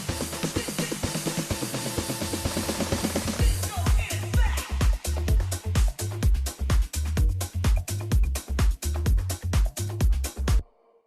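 Full mix of a disco track: a driving four-on-the-floor kick under bright synths and bass, building up and then pumping in a steady beat before it cuts off abruptly near the end.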